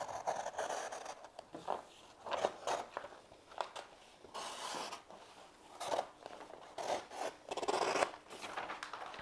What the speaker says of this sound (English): but I'm gonna cut the paper.